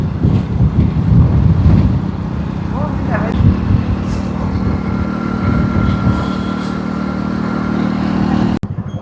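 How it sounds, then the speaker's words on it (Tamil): Strong outdoor wind buffets the microphone in a Jaffna village, a loud continuous low rumble lasting the whole stretch, with faint voices underneath and a sharp knock near the end. "சரியான காத்து."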